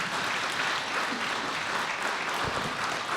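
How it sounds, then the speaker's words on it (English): Steady audience applause at a public safety address, dense continuous clapping from a crowd, even in level for the whole stretch. "You can clap for that."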